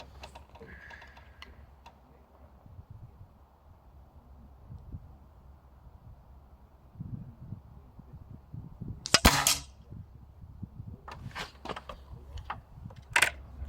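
An Air Arms Pro Sport air rifle fired at a target, with sharp, isolated shots heard close by and spaced apart over quiet background handling noise.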